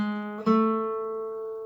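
A guitar plays the third measure of a lesson piece: one sustained plucked note, then a second pluck about half a second later that rings and slowly decays, clear and close.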